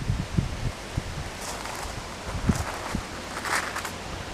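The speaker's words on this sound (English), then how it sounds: "I do hope the audio on the video is okay, because it's a bit blustery today" Blustery outdoor wind buffets the microphone in a steady roaring rush, with low thumps and rustling gusts rising and falling throughout.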